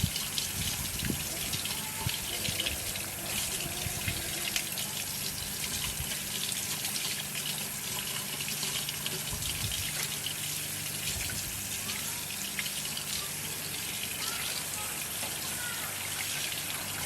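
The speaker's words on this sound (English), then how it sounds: "I'm also going to wash my smoked fish and add it in here" Tap water runs and splashes steadily while smoked fish is washed in a kitchen, a continuous close gushing with occasional clinks, and a voice speaks now and then.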